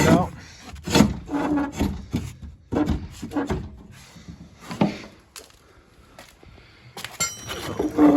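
The steering column of a 1950 Riley RMB barn find is worked loose and pulled out, with scraping, rubbing metal and knocks in irregular bursts, some close and loud, with brief speech mixed in.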